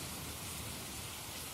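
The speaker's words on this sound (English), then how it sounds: "That sounds like rain." Recorded nature sounds of rain give a steady, even hiss of falling rain, a dense close wash with no voices over it for the short stretch.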